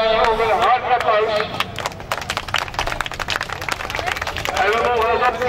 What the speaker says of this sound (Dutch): Dus nog een hard applaus voor alle deelnemers